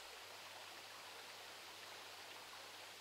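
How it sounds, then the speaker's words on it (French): A river flows gently and steadily past poplars and reeds on a mid-December day, a soft, even wash of water with no other sounds or voices. "Une rivière qui coule, doucement, imperturbable, un 15 décembre."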